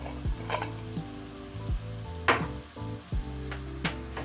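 Goat meat fries in a pan for a Kenyan-style wet fry as ginger is stirred in, soft sizzling broken by several light scraping stirs and a few utensil clinks, with no voices.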